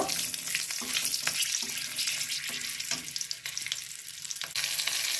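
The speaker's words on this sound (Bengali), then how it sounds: "গোটা জিরে আর দুটো কাঁচা লঙ্কা এটাকে একটু নেড়ে নেব" Whole cumin and two green chilies crackle and fry in oil with bay leaves, a continuous sizzle punctuated by repeated spatula scrapes against the pan.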